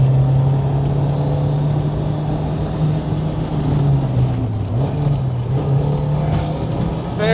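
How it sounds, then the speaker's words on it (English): A car in a racing video game, played with a shifter, brakes and downshifts from third to second, its steady engine drone dipping in pitch and then rising again, loud and continuous with no talking over it. "Very good 3-2 downshift."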